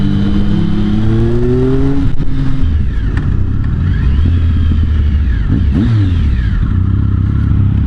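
A Triumph Speed Triple motorcycle on a demo-day test ride fills the sound with a loud, close engine roar, its pitch climbing and dropping through gear changes and throttle blips under steady wind rush.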